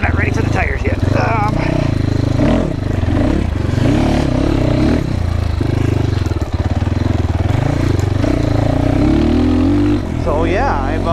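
GPX FSE300R motorcycle engine on a first ride, droning and revving loudly with wind rumble and clatter, while the rider talks over it throughout.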